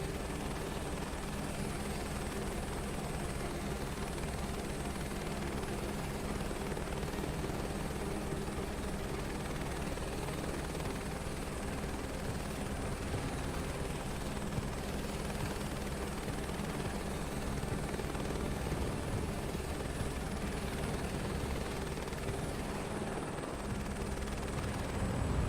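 A helicopter lifting off in Microsoft Flight Simulator 2024, its rotor and engine roar a loud, steady, continuous drone throughout.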